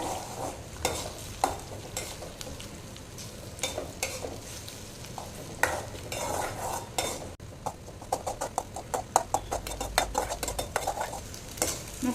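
Eggs frying in a pan for egg soup, stirred with a utensil: fairly quiet, repeated clinks and scrapes over a soft sizzle, with quicker tapping strokes toward the end.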